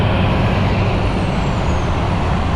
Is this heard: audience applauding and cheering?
no